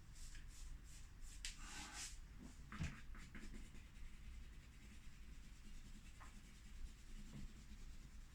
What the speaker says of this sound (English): Let's just use our eraser for this.